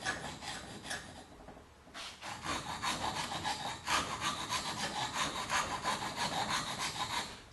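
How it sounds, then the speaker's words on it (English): A wood rasp working the neck of a carved wooden spoon held in a vise, quick rhythmic scratchy strokes close by, with a short pause before the steady rasping resumes. "You'll have to use the round side of the rasp."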